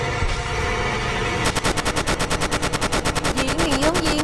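Rapid automatic gunfire in the Sirent Head Rebirth video game, a loud, sustained burst of evenly spaced shots that starts abruptly and runs continuously for several seconds.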